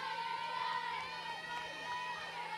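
Spectators at a high school softball game, Minnetonka against St. Louis Park, cheer and shout in a faint, distant wash of crowd noise with scattered whoops.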